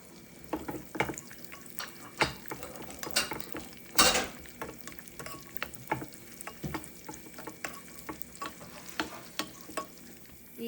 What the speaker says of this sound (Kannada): ಈಗ ಗೋಡಂಬಿ ಹಾಕ್ಕೊಂಡು ಹುರ್ಕೊಳ್ಳೋಣ.